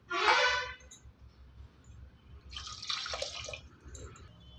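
Two bursts of water pouring and splashing into a pot of mutton soup, the first short and loud, the second softer and longer.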